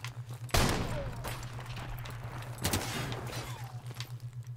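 Shotgun fire in Call of Duty Modern Warfare Remastered Gun Game on the Crossfire map, two loud close blasts about two seconds apart, each trailing off over a low steady in-game hum, with no talking.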